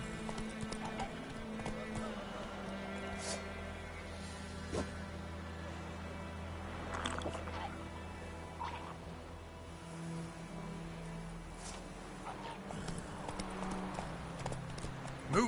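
Roach, the horse in The Witcher 3, clip-clops steadily at a walking pace over a low ambient bed, the hoofbeats close and continuous with faint background sounds around them.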